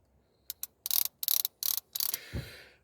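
A part of an old three-screw Ruger Single Six .22 revolver snaps into place with a series of sharp, close metallic clicks and short ratcheting bursts, heard alone in a quiet room, ending with a soft thud.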